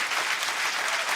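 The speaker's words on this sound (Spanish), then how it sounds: "Más fuerte ese aplauso, hermanos, para la gloria de nuestro Dios." Congregation applauding in a church during a theological debate on the Eucharist, a steady, dense wash of clapping filling the whole moment with no voices over it.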